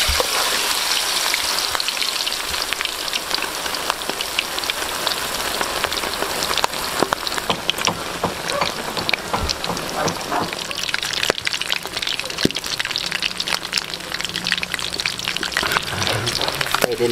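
Pork leg for Chinese-style crispy pata deep-frying in hot oil, giving a steady, dense crackle and hiss like heavy rain that runs the whole time with small pops scattered through.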